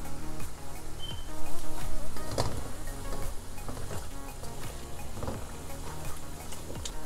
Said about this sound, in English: So I'm gonna just let this fry for 5 minutes